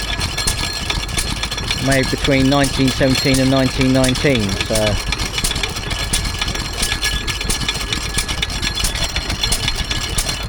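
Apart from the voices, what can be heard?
Ingeco type W hit-and-miss oil engine running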